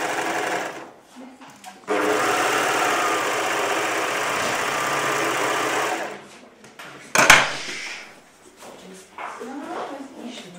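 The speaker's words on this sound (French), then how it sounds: "Je vais le faire avec une surjeteuse, mais on peut aussi le faire avec une machine normale, tant que vous mettez le point zigzag." Serger overlock sewing machine stitching a garment seam, a loud steady whir running about four seconds, then brief clatter and quieter handling noises afterward.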